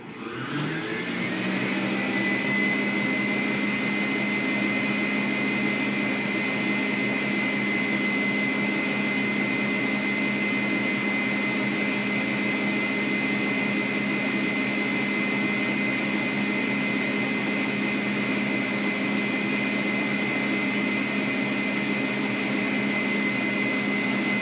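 An electric mixer whipping chantilly cream with a spoonful of condensed milk, a steady high whine running continuously and evenly without pause, with no talk over it.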